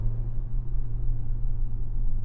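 A 2026 Hyundai Santa Fe Hybrid Calligraphy AWD accelerating under full throttle, a steady low engine rumble heard from inside the cabin, constant and unbroken with no voices.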